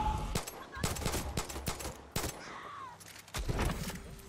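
Pistol and gunfire bursts from Far Cry 6, a rapid run of sharp cracks clustered close together, then a pause and a few more shots, loud and near with game sounds around them.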